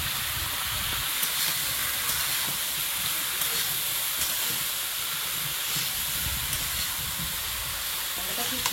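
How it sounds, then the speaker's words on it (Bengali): Eggplant with ginger, garlic, salt and turmeric fries in a pan, giving a steady loud sizzle and hiss that holds evenly throughout with faint background noise. "এটা খুব সুন্দর করে ভেজে নেয়।"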